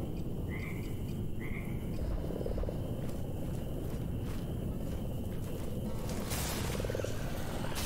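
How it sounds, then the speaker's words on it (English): Loud, continuous frog croaking fills a video game's ambient soundscape, with brief chirping calls early on and a steady dense chorus throughout, no talking over it. "The frogs are still super loud"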